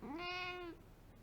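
A cat gives a single clear, drawn-out meow lasting about half a second, fairly faint against a quiet indoor room.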